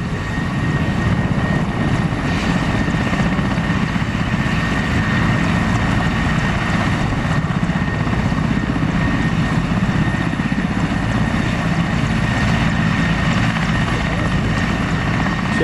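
A Mi-17 helicopter taking off roars loud and steady throughout, its rotor and engine noise constant and close, with people talking beneath it.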